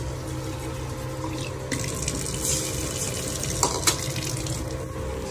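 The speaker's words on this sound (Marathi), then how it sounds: "थोडासा आता पाणी टाकू मस्त।" Water pours into a pan of mutton frying in hot oil with garlic, a steady close rushing splash with a couple of sharp clinks near the end, no talking.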